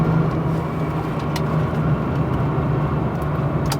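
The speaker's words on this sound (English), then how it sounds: "So what I'm going to do now is just chuck it into this roundabout." Jaguar XJR6 on Yokohama Advan Neova tyres rounding a roundabout, heard from inside as a loud, steady drone of engine and road noise with a low hum throughout.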